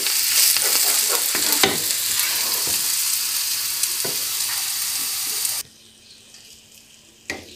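Potatoes fry and sizzle in a pan with a loud, broad hiss and a few stirring scrapes, before the sizzle suddenly drops away near the end, leaving a faint background and one last clatter.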